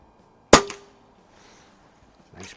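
An Umarex Origin air rifle fires a single sharp, fairly loud crack at the range, with a brief ringing tail and a faint follow-up knock about two seconds later.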